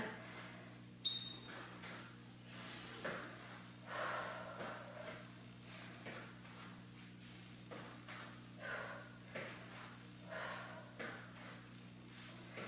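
Faint, rhythmic heavy breathing from someone working through a low-impact at-home cardio workout of knee-to-elbow crunches, with repeated puffs and snorts every second or so over a steady low hum, plus one sharp click near the start.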